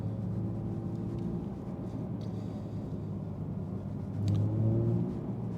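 Steady, fairly quiet engine drone from a Porsche 992 GT3 Touring driving at night. A brief swell in revs comes near the end.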